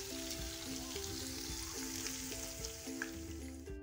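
Onion, garlic and ginger browning in hot oil for vegetable pulao give a steady close sizzle, with regular scraping and stirring strokes from a spoon running through it and no one talking.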